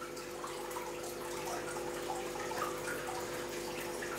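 Water runs steadily from an RO unit used for a fish tank, a constant faint splashing flow with no talk.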